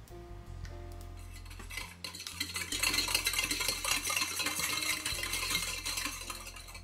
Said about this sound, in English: Mix soy sauce, sake, mirin, sugar, and grated garlic.